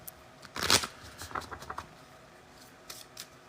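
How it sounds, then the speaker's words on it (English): Trading cards are shuffled by hand in a quick burst of riffling flutter, followed by softer, scattered shuffles and taps, close and with no talking. "Here, we'll get a good shuffle on them."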